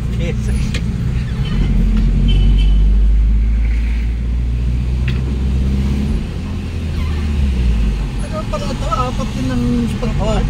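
A Foton Gratour 1.2 four-cylinder van on a road test, its engine droning low and steady throughout with road rumble and brief revving, while people talk inside the cab over the engine.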